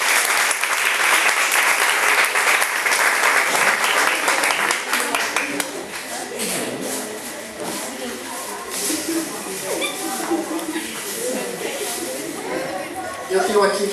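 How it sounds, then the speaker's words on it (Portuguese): An audience claps loudly in a church Sunday school class, a dense burst that fades after about six seconds into lighter scattered claps and murmuring voices. "Palmas para ele"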